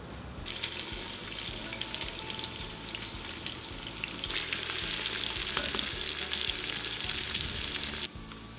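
Onions frying in oil in a cast-iron potjie pot for mushroom chicken, a steady close sizzle and crackle that swells louder about halfway through, with occasional stirring scrapes and no talking.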